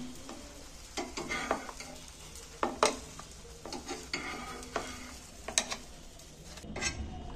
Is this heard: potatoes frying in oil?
yes